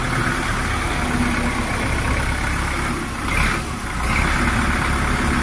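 A steady, low engine idle drones throughout, a Jinma 404 tractor with forced hydraulic hitch running nearby on a tractor lot, with a brief swell in the middle.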